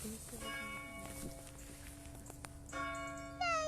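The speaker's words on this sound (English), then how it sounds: "The church bell." A church bell at St Giles Church, Nether Whitaker, rings with sustained metallic tones, faint and distant, over background noise and footsteps, with a brighter ringing strike near the end.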